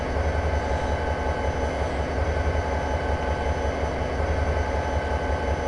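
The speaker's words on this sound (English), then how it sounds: "I'm just coasting this train into the siding" A train in the Train Simulator video game coasts into a siding on Cajon Pass, a steady, loud rumble and hum of rolling stock that carries evenly throughout with no voices.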